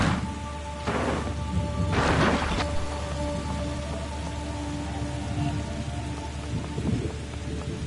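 Rain and rumbling thunder in the video game The Gardens Between: steady loud rainfall with a few close thunder cracks and rolls in the first seconds, then continuous downpour.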